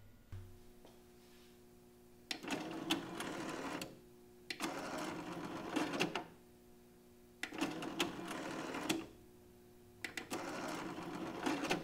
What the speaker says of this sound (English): When the DCC 730 came in, we thought the mechanism was broken as it made more noise than usual.